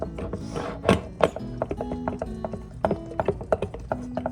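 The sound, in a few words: stirring a sourdough starter in a jar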